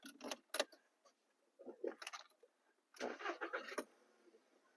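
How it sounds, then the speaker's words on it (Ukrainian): A Volkswagen Touran with a 1.6 petrol engine being started, several short cranking bursts followed by a longer crank as the engine catches, recorded close up with no talking. "Давайте зараз вам заведу автомобіль."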